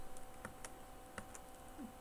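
Soft, sparse keystrokes on a computer keyboard while entering a spreadsheet formula, a handful of quiet irregular clicks against faint room hum, with no talking.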